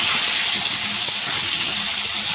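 Raw green mango pieces frying lightly in a pan give a steady, loud, broadband hiss throughout, with no talk over it.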